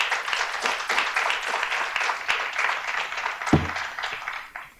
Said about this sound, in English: please welcome Lyle with your applause